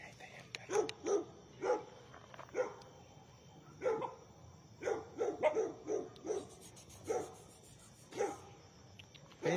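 A dog outdoors on a piece of land gives repeated short barks and yips in an irregular rhythm, fairly faint and at a moderate distance, with soft whimpering between the barks.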